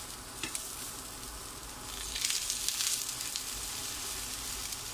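Eggplant slices for baigan gojju fry in a little oil with a quiet continuous sizzle that grows busier and crackly midway, with a couple of faint utensil taps.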